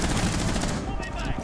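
Rapid gunfire bursts in Rainbow Six Siege, shots fired through a wall into smoke, a dense crackling volley lasting about a second and a half.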